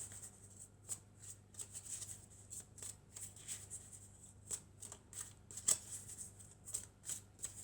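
Oracle cards riffled and shuffled by hand at a quiet table, a steady series of soft papery flicks and slaps repeating for several seconds, close and faint with no voices.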